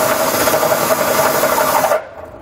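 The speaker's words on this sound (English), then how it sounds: "I'm going to use a step bit just to make a nice clean round hole" Step bit drilling a round hole in a steel frame while fitting a Curt trailer hitch receiver to a 2020 Subaru WRX, a loud steady grinding whir that stops abruptly near the end.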